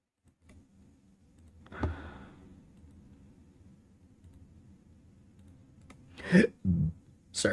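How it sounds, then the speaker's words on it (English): A burp at a desk, one short low rumbling belch near 6.3 seconds and another shortly after, loud and close against quiet room tone with a faint earlier throat noise. "Sorry for the burp."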